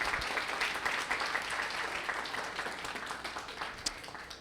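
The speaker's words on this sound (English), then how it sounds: "Can we give Dr. Marianne Mader a big round of applause?" Audience applause at a talk about simulated lunar and planetary exploration missions, a fairly soft, even patter of many hands clapping throughout, heard from some distance.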